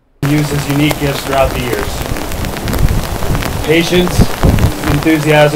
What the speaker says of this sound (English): we got the wind, we got the rain, and we got the clothing rustle